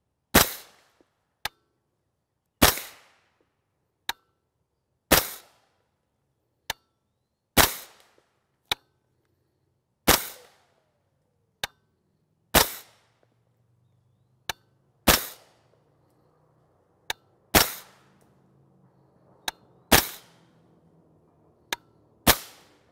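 Suppressed 300 AAC Blackout rifle built on a JK Armament kit fires 220gr OTM rounds: about ten sharp, muffled cracks at a steady pace roughly two and a half seconds apart. Fainter clicks fall between them, with no talk.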